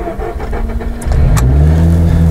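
A sports car engine cranks and catches, then settles into a loud, deep, rumbling idle close by.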